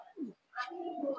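A high-quality Pakistani pigeon calls in short, soft cooing phrases, a brief low note followed by a longer rolling coo, close and moderately loud.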